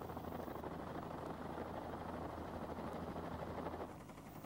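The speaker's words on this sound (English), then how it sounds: "To maintain a hover, the helicopter must now use considerably more power" Helicopter hovering out of ground effect, drawing considerably more power; a steady, low, continuous rotor and engine drone at moderate distance, faint, with no talk, easing slightly at the end.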